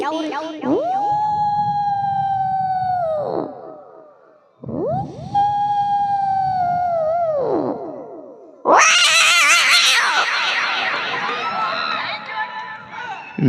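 A voice imitates fighting cats: two long, wavering yowls, then a harsh, screeching squall, loud and close.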